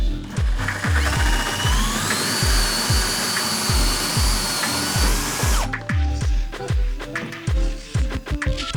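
A power drill whines steadily with a 2-inch hole saw biting through material in a work van, rhythmic chattering underneath, then the pitch drops as the tool slows and grinds on.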